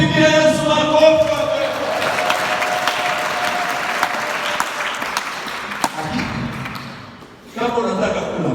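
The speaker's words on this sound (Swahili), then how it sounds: "Hebu mpigie Yesu makofi." A church congregation claps together at a sermon, broad sustained applause that swells over several seconds and fades, with a voice speaking over it and a brief resurgence at the end.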